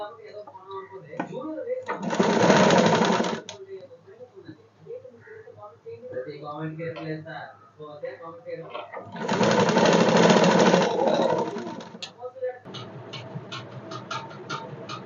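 A sewing machine stitches a folded round neckline hem in two loud, steady bursts of rapid whirring, each lasting a few seconds, with someone speaking between and after them.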